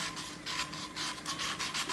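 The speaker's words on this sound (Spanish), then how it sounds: "ponen la lija de esta manera y empiezan a pulir la cola" Sandpaper rubs back and forth over the tail of a handmade syringe dart, making a steady series of close, rasping strokes with no talking.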